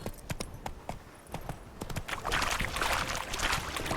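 Horse hooves clip-clop at a trot in The Witcher 3, a steady rhythm of sharp, close hoofbeats that quickens and grows louder as the mount picks up pace, with no talking.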